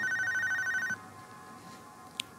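A telephone rings with a rapid warbling trill for about a second before it cuts off, followed by quiet room tone and a small click, with no one speaking.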